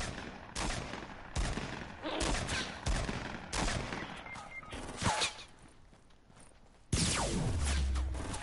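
Gunfire in a PS4 video game, several sharp broadband bursts spaced across the stretch, loud and close, with a heavier blast near the end and no talk over it.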